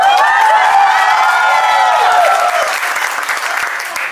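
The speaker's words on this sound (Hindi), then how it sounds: "मैं चाहता हूँ आपकी आवाज और आपकी तालियां और आपकी गड़गड़ाहट से मालूम चलना चाहिए अभी तक का सेशन कैसा रहा।" Seminar audience erupting in loud applause mixed with cheering, shouts and whistles, the crowd noise holding strong before easing slightly toward the end.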